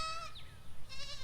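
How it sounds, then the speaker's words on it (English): A goat out on a homestead bleats twice, a wavering cry followed by a shorter second call, fairly faint at a slight distance over low background rumble. "You know there's a goat out on the thing, right?"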